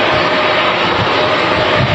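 An Omni Air ATR turboprop taxiing at Manchester Airport, heard as a steady, loud, close engine roar with broad hissing noise that holds constant throughout, no voices.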